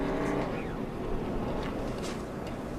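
A NASCAR truck races past on the track during practice, a loud continuous engine roar with a brief pitch sweep as it goes by, with other engine noise filling the background.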